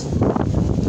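Strong wind blowing in from open fields rushes against the microphone in a brief, steady, loud roar of buffeting noise.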